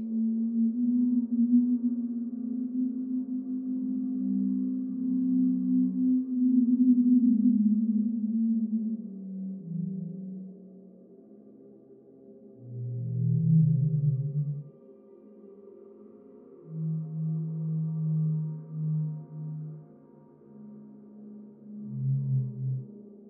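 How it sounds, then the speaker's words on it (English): A fast radio burst signal in the Signal Simulator video game plays as a low, droning hum with wavering, almost voice-like tones that slide and pulse. It stays steady and moderately quiet with no speech throughout. "another unknown signal and fast radio burst. No picture, now for audio."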